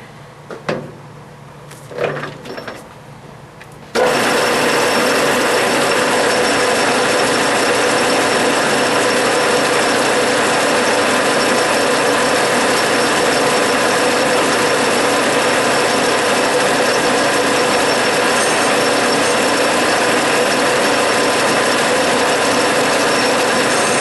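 A lathe drilling into a brass stud, a steady loud mechanical whir with a faint ratcheting texture that starts abruptly after a few seconds of quieter machine noise and then runs on unbroken.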